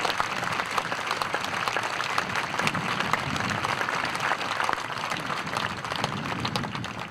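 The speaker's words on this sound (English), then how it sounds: "Let's give the Torrance High School Association student body a round of applause." Audience gives a round of applause for the Torrance High School student body at a memorial event, a loud, continuous wash of many hands clapping throughout.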